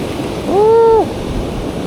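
Incoming tide surf washes steadily over a Jacksonville, Florida beach, a continuous rushing wash mixed with wind noise. Midway a brief, high, whistle-like tone rises above it for about half a second.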